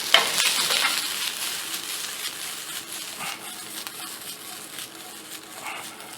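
Rice sautéing in browned butter in a pan, a close crackling sizzle with rattling, scraping stirs, loudest at the start and easing to a steady hiss.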